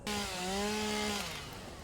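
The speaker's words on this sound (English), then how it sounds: "I'm assuming the chainsaw can operate off of normal fuel as well as biofuel." Chainsaw cutting trees in the video game Satisfactory, a steady engine whine with rising and falling harmonic pitch as the saw bites into wood, loud and continuous with no talk.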